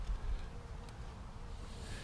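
Russian honey bees buzzing around an open hive out in the country, a faint, steady low hum that holds for about two seconds with no voices.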